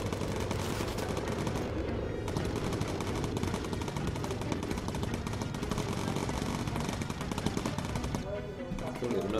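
Bomber aircraft gunners unleash focused fire in the Bomber Crew video game: continuous rapid machine-gun bursts rattle over a droning engine, nearly unbroken across the stretch, with a brief lull or two and a voice talking over it.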